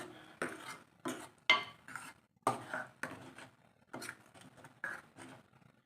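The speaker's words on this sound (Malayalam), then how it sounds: "ഇപ്പം നമ്മൾ കറി ഇളക്കി കൊടുത്തോണ്ടേ ഇരിക്കണം" A spoon stirs a Kerala-style dal and tomato curry with ground coconut in a pot. Each stroke makes a scraping clink, repeated in an even rhythm of about a dozen strokes, with no talk.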